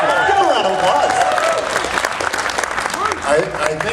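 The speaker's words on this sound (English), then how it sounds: "Give a round of applause." A convention crowd at a horror film Q&A applauds steadily and loudly, with voices and cheering mixed into the clapping throughout.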